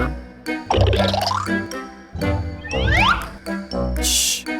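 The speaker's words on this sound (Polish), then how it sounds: "Mam balony z wodą." Water balloons squished and handled during children's play, giving wet plops, drips and sloshing bursts, with children's voices heard alongside.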